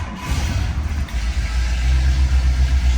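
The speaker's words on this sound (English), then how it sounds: "This car starts so easy. I'm going to give it one quick pump on the gas" A 1963 Ford Galaxie 500XL cold-starting and catching, its engine settling into a loud, steady low rumble that builds and holds close by with no talk.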